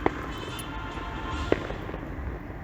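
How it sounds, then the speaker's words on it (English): Fireworks from a nearby wedding venue pop and crackle in the distance, with two sharper bangs standing out from a low outdoor rumble. "It's fireworks."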